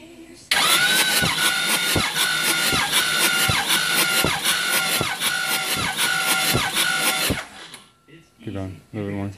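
A Ford 6.0L diesel engine cranks steadily during a compression test, the starter pulsing in an even rhythm for about seven seconds, loud and close, before stopping and giving way to brief talk.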